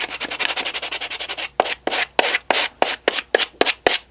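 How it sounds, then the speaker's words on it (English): Hand sanding with 80-grit paper on a block works a sculpted nutcracker figure, close and crisp: rapid back-and-forth scrubbing strokes, then slower, separate rhythmic rasps. "I'm just using 80 grit on a block, nothing special."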